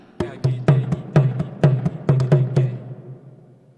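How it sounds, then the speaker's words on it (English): A drum struck in a lively, uneven pattern, mixing sharp stick hits with fuller open-hand strokes, about ten beats ringing out then fading. "On the drum, it sounds like this."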